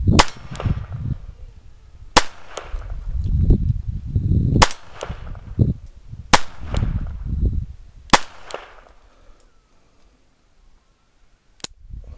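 Dreyse M1907 pistol fired in a field test, five sharp loud snapping shots spaced a couple of seconds apart, each with a brief ringing echo and rumbly handling noise between, then a fainter final report after a quiet stretch.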